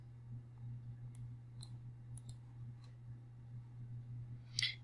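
Several soft computer mouse clicks, spaced irregularly and fairly quiet over a steady low electrical hum, with a slightly louder click cluster near the end; no one speaks.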